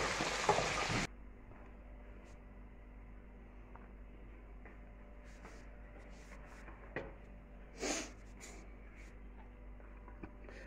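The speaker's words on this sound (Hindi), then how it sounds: "देसी घी के अंदर फ्राई हो रहा है, बड़े मज़े का चिकन" Chicken sizzles loudly in hot desi ghee for about a second of dhaba-style sajji cooking, then gives way to a quiet kitchen hum with a few faint clinks and stirring sounds.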